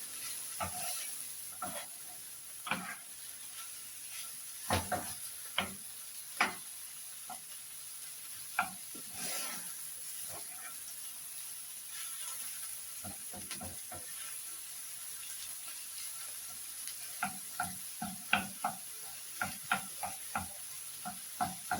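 Mushrooms sizzle quietly in a pan under a steady soft hiss, with scattered scraping clacks of a utensil stirring at irregular intervals.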